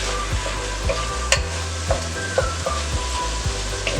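Ground beef browns in a pan for cheesy beef pasta Hamburger Helper, with a constant loud sizzle and regular scraping spatula strokes close by, and nobody speaking.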